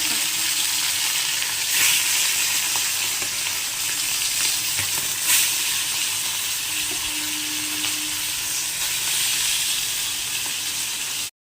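Fish pieces fry in hot oil with a loud, continuous close-up hiss and crackle that holds steady throughout, then cuts off abruptly at the end.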